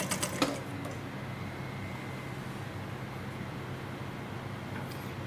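A sewing machine stitches a dress facing line on a sleeveless dress. It runs as a continuous, even mechanical whir, close and steady throughout, with a few light clicks at the start and no talking.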